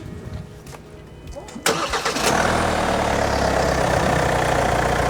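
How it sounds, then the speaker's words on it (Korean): A car with its battery terminal disconnected is started from a capacitor jump starter; the engine catches abruptly partway through and settles into a steady, close idle, with some voice in the background. "지금 배터리 단자를 완전히 뺐는데도 불구하고 시동이 걸렸어요"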